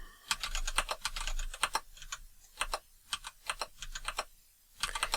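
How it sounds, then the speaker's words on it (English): Fingers type on a computer keyboard, making rapid clusters of crisp, close key clicks with short pauses between bursts, clear and alone with no voices. "I'm going to type in gender, and what I'm going to do is type in a couple of values manually."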